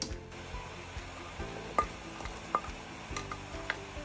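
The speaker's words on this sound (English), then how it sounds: "I'm going to add some onions in the juice of the lamb." Onions frying in the juices left from cooking lamb for a Pakistani lamb karahi, giving a low, steady sizzle broken by a few sharp ticks and clinks of a utensil against the pan, close by with no talking.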